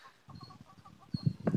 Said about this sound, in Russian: еще и молодая тут курица у меня что-то делает вместе с ними